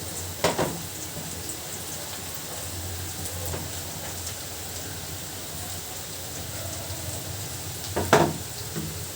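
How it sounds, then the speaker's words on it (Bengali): Onions fry in a pan with a steady, moderate sizzle and crackle. Louder stirring scrapes come near the start and again near the end. "পেঁয়াজটা আর একটু ভাজি করি"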